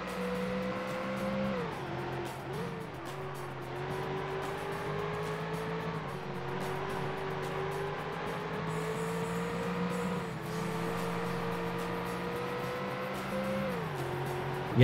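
A racing car engine drones steadily in a Ford Racing video game with a Ford Taurus, its pitch rising and dropping as it shifts through gears, loud and continuous throughout.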